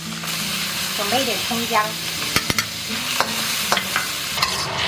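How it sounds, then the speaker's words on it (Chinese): Beef mince sizzles in hot oil in a wok as it is stir-fried, a continuous crackling hiss broken by several sharp spatula scrapes and clanks, with a person speaking briefly over the cooking. "锅里我们再来点油，把这个牛肉末给它放上去，给它炒至变色"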